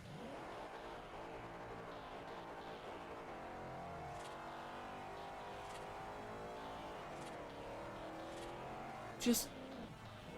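A barn-find car's engine in the video game Forza Horizon hums and revs in smooth rising and falling tones, with a sharp burst near the end over the steady motor.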